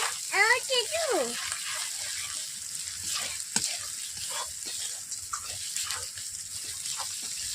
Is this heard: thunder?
no